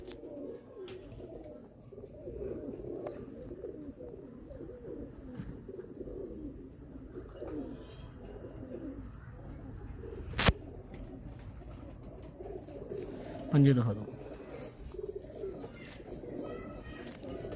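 Breeder pigeons in Faisalabad give low, soft cooing calls that recur throughout, faint and close, with someone speaking briefly and a few sharper knocks and clatters.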